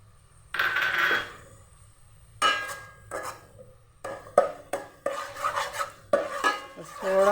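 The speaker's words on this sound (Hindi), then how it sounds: "अब इसी कुकिंग ऑयल में मैं लहसुन अदरक का पेस्ट डालूँगी" Garlic-ginger paste cooks in oil while a metal spoon clinks and scrapes against the pot in irregular taps and strokes, the frying hiss faint beneath the sharp utensil sounds; close, no voices.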